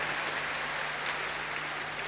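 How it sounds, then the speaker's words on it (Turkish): Outdoor crowd applause welcoming the district governor at the Bozkır youth festival in 2007, a distant, even wash of clapping with a steady low hum beneath, no voices standing out. "Kaymakamımız burada bir alkış yollayalım efendim"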